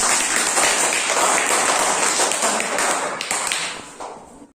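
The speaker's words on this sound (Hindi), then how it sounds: "एक बार पुनः इस बिटिया के लिए आप लोग फिर से जोरदार ताली" Loud, dense applause from a crowd at a primary school gathering, honoring a young girl, a steady wash of clapping that fades out toward the end.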